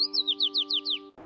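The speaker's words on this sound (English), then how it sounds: "The little bird began singing again." A little cartoon bird sings a quick run of six bright, rising chirps in steady rhythm over a sustained soft musical tone, close and clear, ending abruptly.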